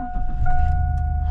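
An old hay machine's ignition key is cycled, giving a steady electrical hum with two sustained tones over a low rumbling drone, close and fairly loud, with no engine catching.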